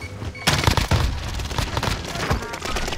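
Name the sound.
frag grenade thrown and exploding in a video game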